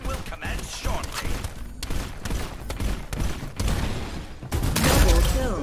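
Rapid bursts of gunfire from the Farlight84 shooter game crackle and rattle in quick succession, with sharp shots and mechanical clatter building to a heavier blast near the end.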